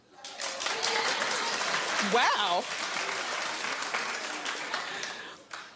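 A studio audience at a daytime talk show claps in a dense, sustained burst that fills the room, with a voice briefly exclaiming over it midway.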